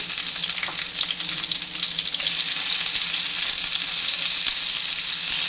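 Onion added to a hot pan for kinamatisang pork, frying with a loud, steady, close sizzle, while stirring scrapes briefly break through the continuous hiss.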